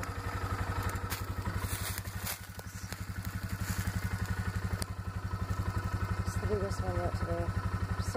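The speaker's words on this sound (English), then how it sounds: "I was just driving really slow down this road on my four-wheeler." A four-wheeler ATV rolling slowly down a dirt road in Michigan's Upper Peninsula, its engine a steady low throbbing putter with faint rattles, close and continuous throughout.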